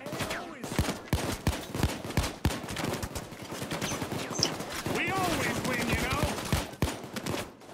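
Rapid bursts of gunfire during a jewelry heist in the video game Payday 2, sharp repeated shots in quick volleys throughout, loud and close, with a voice talking among them.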